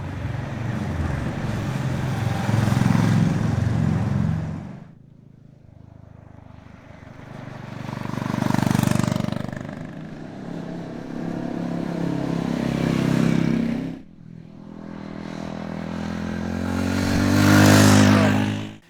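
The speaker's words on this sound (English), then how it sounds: "because of the different characteristics of the engines, that gives them different sounds and feel when you're in town" Two single-cylinder motorcycles, a 2025 BSA Bantam 350 and a Honda GB350S, riding through town, their engines passing loud and close in three swelling runs separated by brief lulls.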